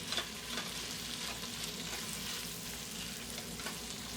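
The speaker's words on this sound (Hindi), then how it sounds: "चिकन को उस वक्त तक फ्राई करें जब तक चिकन का कलर वाइट ना हो जाए" Julienne-cut chicken frying in a pan gives a dense, even sizzle that stays steady throughout, with faint stirring scrapes mixed in.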